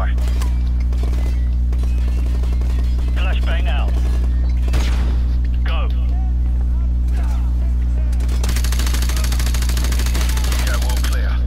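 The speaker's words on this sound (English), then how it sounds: "Flashbang out." A flashbang grenade and gunfire in Call of Duty Remastered during a room-clearing assault, with a sharp bang and a bright ringing burst followed by scattered shots over a constant low engine-like drone, while soldiers call out orders.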